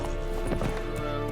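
Hoofbeats of a horse galloping in The Witcher 3, rapid clip-clop over a dense game soundscape of music and ambience, brief and steady.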